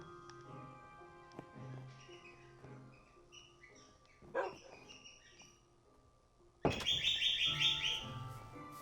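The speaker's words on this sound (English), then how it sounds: "I don't know if you can hear Danny squawking." Danny, a pet bird, squawks and chirps in scattered bursts over a quiet game backdrop, ending in a loud, bright, sustained screech at close range.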